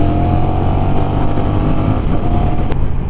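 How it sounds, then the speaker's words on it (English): Honda Rebel 1100 parallel twin motorcycle engine, 1100cc, running: a steady, loud, close engine drone with an even throb throughout, no speech. "So this is the parallel twin engine, 1100cc's."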